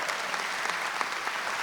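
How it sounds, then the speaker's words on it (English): A crowd at a Comedy for Cancer benefit show applauds steadily, a dense wash of clapping that holds at an even level throughout with no talk over it. "Give yourselves a round of applause."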